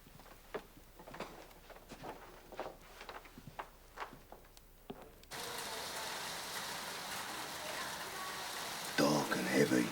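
A night of heavy rain comes in as a steady loud hiss after scattered clicks and knocks, with a voice speaking near the end.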